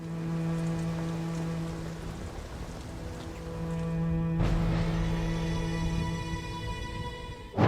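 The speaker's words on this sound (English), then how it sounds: "Peter and Simone kiss in the rain" Steady rain falls in a Heroes TV drama scene where two characters kiss, a continuous hiss under sustained music tones that shift about halfway through.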